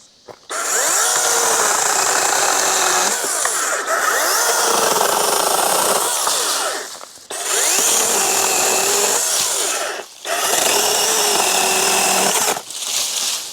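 DEWALT 20V Max 8-inch cordless pruning chainsaw cutting through hardwood: three loud, sustained whining cuts of a few seconds each, separated by brief pauses as the motor spins down and restarts, close to the microphone with no talking.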